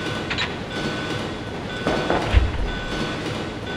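Moving train in the 1998 Resident Evil 2 video game, a steady low rumble and rattle of rolling carriages with a brief heavier thump near the middle, heard alone without talk.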